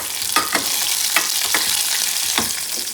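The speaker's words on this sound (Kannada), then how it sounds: "ಆನಿಯನ್ ಹಾಕ್ಕೊತಾ ಇದ್ದೀನಿ" Chopped onion sizzles in hot oil with cumin in a home kitchen pan, giving a steady crackling hiss broken by a few louder spatula stirs and scrapes, close and without any talking.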